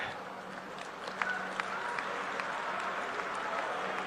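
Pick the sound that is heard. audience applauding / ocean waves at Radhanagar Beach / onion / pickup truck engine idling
audience applauding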